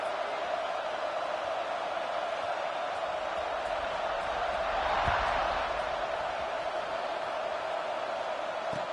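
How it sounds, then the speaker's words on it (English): Steady stadium crowd roar from the College Football 26 video game, a continuous broad wash of cheering that swells slightly near the middle, with no clear talk over it. "this crowd is feeling themselves after that last drive."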